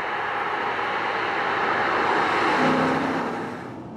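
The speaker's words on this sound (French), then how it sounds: "Ça c'est une voiture qui est très rageuse à haut régime en plus" A road car's engine revs hard at high RPM on a circuit during a driving course, a loud, sustained roar climbing steadily as it pulls out of a corner before easing off near the end.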